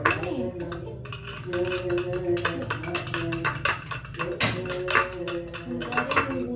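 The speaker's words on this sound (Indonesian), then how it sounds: "kita kocok dulu nih telurnya" Eggs being whisked in a bowl with a utensil for homemade sushi, fast rapid clinking and tapping against the bowl throughout, with a voice talking over it at times.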